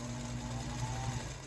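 Sewing machine stitching a quarter-inch seam on a quilt block, a steady close mechanical whir that runs alone without talk.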